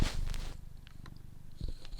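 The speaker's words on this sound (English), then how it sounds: "that was him purring and scraping his teeth against my microphone" A pet cat purrs close to a microphone and scrapes its teeth against it, a low rumbling purr broken by sharp, scratchy rubbing noises right at the mic.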